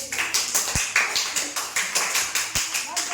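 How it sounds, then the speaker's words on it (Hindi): Children in a classroom clap for a student who read the time on a clock: quick rapid applause from several hands nearby, a steady patter with a few louder claps, with speech mixed in. "ताली बजा दो इनके लिए"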